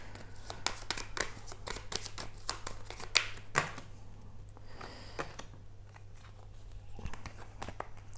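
Soft riffling and flicking of a deck of oracle cards being shuffled by hand, faint and close, with intermittent papery snaps over a low steady hum.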